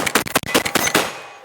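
MAC shotgun dumping its magazine, about eight loud close shots fired in rapid succession over about a second, followed by a short ringing decay.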